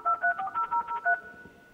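A dial-up modem sounds a quick sequence of about six electronic dialing tones beeping in rhythm, followed by a steady sustained tone, fairly faint.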